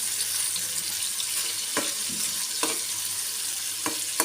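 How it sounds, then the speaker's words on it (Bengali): Aire fish sizzling and frying in a pan, a steady dense hiss with a few sharp pops and crackles, close and continuous. "মাছটা একটু উল্টে দিব। 2 পাশ ভালো করে যেন কষায় যায়।"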